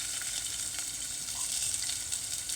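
Onions going into hot oil with cumin seeds for poha, a loud, steady, close sizzle and crackle of frying with no speech.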